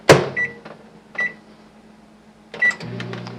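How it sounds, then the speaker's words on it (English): A microwave oven is set to soften ingredients for a sauce: a loud door slam, then three short keypad beeps, followed by the start beep and the low hum of the oven running. "Now I'm going to take them over here to the microwave and soften them up so we can get them in the sauce."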